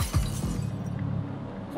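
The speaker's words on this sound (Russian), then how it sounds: "Боже, где там стекло бьют." Glass smashing in the video game Quantum Break: a sharp shatter with scattered tinkling fragments, followed by a softer rumbling tail.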